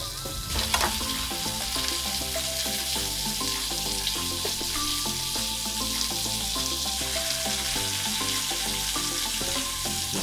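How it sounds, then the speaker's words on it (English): Bread fries in mayo on a Chargriller griddle with a steady, dense sizzle that stays level throughout, while a tuneful backing melody plays underneath it the whole time. "I'm going to use mayo to fry this bread up"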